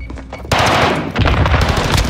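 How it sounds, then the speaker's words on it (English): Loud, close automatic gunfire rattles in rapid bursts during a Call of Duty match on Rebirth Island, starting abruptly and continuing almost without a break. "I'm getting shot by his teammate."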